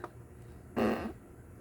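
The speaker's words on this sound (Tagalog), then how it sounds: "Pasensya na, umutot ako." A short fart, a single quarter-second burst, blares out over the faint steady hum of a solar electric fan, loud and close and then gone.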